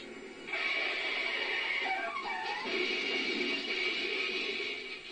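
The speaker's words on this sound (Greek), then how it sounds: "κουταβάκι είναι" A puppy stranded on a road whimpers in high, wavering cries that rise and fall over a steady background hiss, lasting several seconds.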